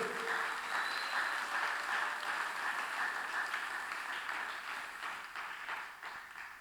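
A church congregation applauds in praise, a steady broad wash of many hands clapping that holds evenly and fades slightly toward the end, with no talk over it.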